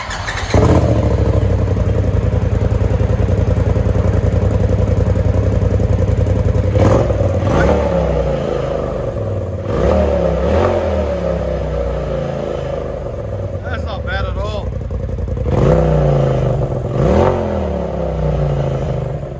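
Revs from a 2021 Polaris RZR XP 1000 Turbo fitted with a replacement muffler: a loud, steady engine drone broken by several sharp throttle blips that rise and fall, close by with no talking.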